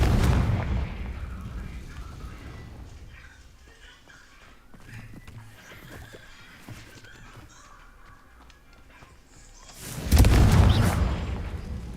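Spell explosions from Confringo in the video game Hogwarts Legacy, a loud deep blast at the start, a stretch of rumbling crackle and smaller hits, then a second heavy booming burst near the end.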